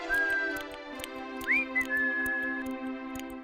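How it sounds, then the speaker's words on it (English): An animated tin man whistles a cheerful, wavering tune in a fairy tale, clear sustained whistled notes with a rising slide, over soft background music and no talk. "He was busy oiling his screws and was whistling away."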